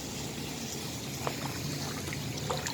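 Water leaks steadily from a drainage hole in a tank, a constant close trickle and splash with faint drips standing out now and then, at low level with no talk.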